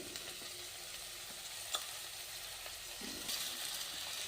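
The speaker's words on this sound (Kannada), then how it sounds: "ಅನ್ನ ಹಾಕಿ ಮಿಕ್ಸ್ ಮಾಡ್ಕೊತೀನಿ ನೋಡ್ರಿ" Cooked rice stirred into lentils frying in oil in a pan for an onion-garlic chitranna, a steady sizzle with scraping spoon strokes and a brief clink, no talking.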